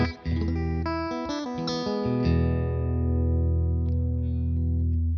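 A Stratocaster electric guitar plays a clean tone through a Tone King Imperial tube amp, sounding a quick run of notes and then letting a chord ring and sustain, loud and close.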